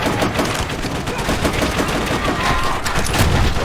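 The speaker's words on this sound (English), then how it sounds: "Then shoot through the damn wood!" Dense, continuous gunfire with machine-gun bursts and rifle shots from the Call of Duty: World at War campaign, loud and sustained in a battle setting.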